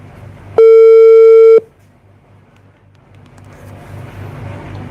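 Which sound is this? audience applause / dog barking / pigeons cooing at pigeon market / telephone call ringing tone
telephone call ringing tone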